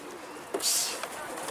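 A pigeon that has flown indoors gives a brief burst of wing flaps and movement, fairly close, amid a noisy room with no talking.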